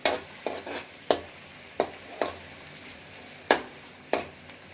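Onions fry in a pan over medium heat with a soft, steady sizzle, broken by about eight sharp scraping strokes of a stirring spoon, close and with no one speaking.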